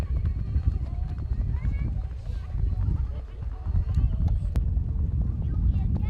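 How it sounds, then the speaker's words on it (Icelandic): Icelandic horse Týr frá Litladal moves at the tölt at an outdoor competition, giving a steady patter of hoofbeats under a busy background of wind and crowd noise, with an announcer talking over it. "það er hér sem sagt kominn fyrsti hestur, Týr frá Litladal á tölti."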